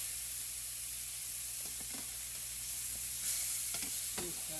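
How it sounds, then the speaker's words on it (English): Salmon fillet pan-frying after being turned, with peppers and onions nearby, a steady soft sizzle and hiss with a few light utensil taps toward the end, close and without talk. "we'll go ahead and turn the fish"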